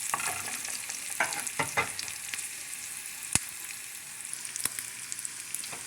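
Onions and jardinera peppers fry in herb butter with a steady sizzle, while a utensil stirs them in several distinct scrapes and one sharp knock partway through; nobody speaks.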